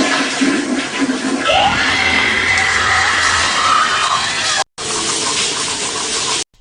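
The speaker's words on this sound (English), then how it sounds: "He flushes the toilet, the water gets cold, and it does that predator or the alien scream" A shrill predator- or alien-like scream effect from an old 1980s commercial rises over a loud rushing toilet flush, then the sound cuts out briefly and the harsh, hissing roar resumes.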